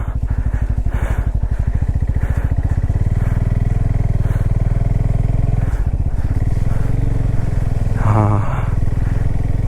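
A Bajaj Pulsar N250 motorcycle slithers through deep mud, its engine chugging loudly and close in a steady low throb, with a brief rising rev near the end.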